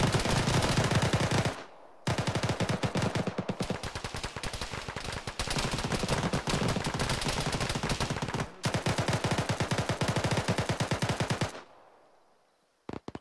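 Sustained automatic gunfire in a military game, long rapid bursts of shots broken by a few short pauses, loud and near, ending in a fading tail and a couple of final shots.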